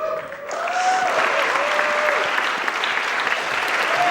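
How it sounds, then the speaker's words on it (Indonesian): Audience at an Indonesian stand-up comedy show claps in a steady, dense burst that swells after a brief pause and holds loud throughout, with a faint whistle-like tone riding over the clapping. "Tepuk tangan sekali lagi untuk Akbar."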